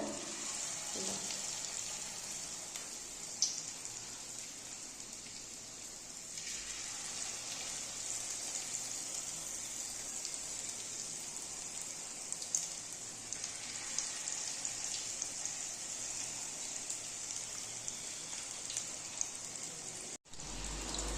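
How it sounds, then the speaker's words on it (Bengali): Marinated chicken pakora pieces fry in hot oil with a steady, even sizzle and crackle, constant throughout with a few small pops and no talking. "এবারে এই চিকেন ম্যারিনেট করে চিকেনগুলোকে এক এক করে এই গরম তেলের মধ্যে"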